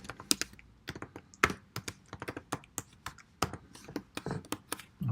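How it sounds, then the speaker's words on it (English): Keys clatter on a computer keyboard in irregular bursts of close, crisp taps, typing steadily for a few seconds with brief pauses and no voices. "I'm typing some important stuff."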